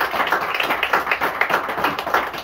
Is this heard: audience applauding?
yes